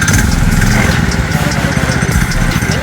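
Motorcycle engines rumble steadily and loudly nearby, a continuous throaty drone with slight revving fluctuations.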